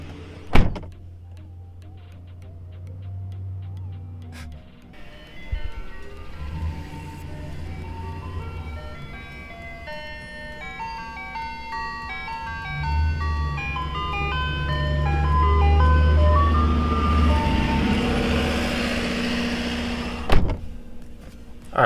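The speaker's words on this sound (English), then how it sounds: "Freaking ice cream truck." An ice cream truck plays its tinkling melodic jingle, the tune repeating steadily over a low idling rumble, with a couple of sharp thumps near the start and end.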